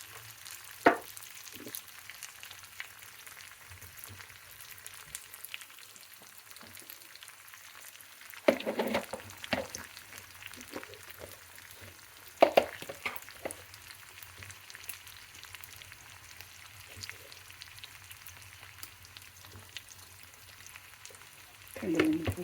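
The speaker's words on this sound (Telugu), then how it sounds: "మిరపకాయలు వేసి కొంచెం ఎర్రగా వేగిన తర్వాత ఈ పోపుని పప్పులో వేసుకోవాలి." Dried red chillies fry in hot oil for a dal tempering: a faint, continuous low sizzle, broken by a few sharp clatters of utensils.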